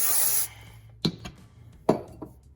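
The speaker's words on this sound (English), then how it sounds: "And then spray it, hit it up." A short hiss of aerosol cleaner sprayed into a Kawasaki KZ1000 motorcycle carburetor opens, followed by a couple of sharp metallic clicks and knocks in a quiet space.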